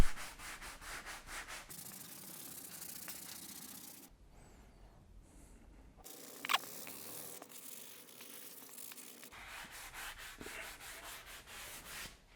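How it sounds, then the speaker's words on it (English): Close, rhythmic rasping of sandpaper scuffing the leather side bolster of a BMW E46 325i Touring car seat, in repeated back-and-forth strokes broken by short pauses, with no talk. "Using the supplied sandpaper, the surface is scruffed up."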